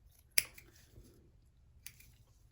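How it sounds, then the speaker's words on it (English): Scissors snipping excess towel fabric off the edges of a homemade mask: two sharp, crisp cuts about a second and a half apart, the first louder, close up and quiet in between. "take a pair of scissors and cut the excess towel off on each edge"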